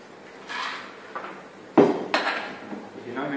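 A cocktail shaker is worked behind a bar during a Bols Young Talent bartending competition in Medellín, giving bursts of rattling ice and metallic clinks in short rounds, close and moderately loud.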